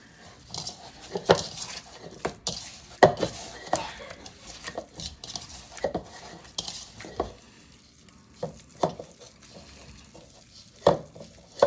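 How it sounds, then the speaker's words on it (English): Meatloaf mixture seasoned with salt and pepper gets worked together in a bowl, making irregular wet squelches and soft knocks that come in close, uneven bursts throughout. "Now we're going to mix this all up"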